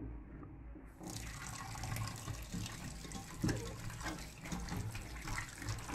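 Tap water running steadily into a sink while raw pork is washed, a continuous close splashing gush with a few faint clinks.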